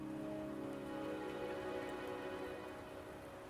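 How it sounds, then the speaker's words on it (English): Steady rain falls and patters on surfaces in the video game Wuthering Waves, an even continuous hiss heard alone without voices. "Don't worry, the rain won't last much longer."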